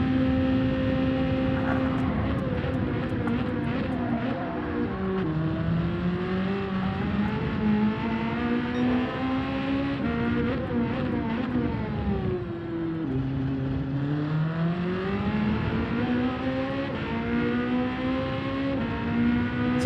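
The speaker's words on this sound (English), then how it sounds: "Sometimes when you're decelerating, the car sounds like a spaceship." A race car engine in Gran Turismo 7 drones continuously during a daily race lap at Indianapolis, its pitch climbing under acceleration and sweeping down on deceleration, repeating in long, smooth waves.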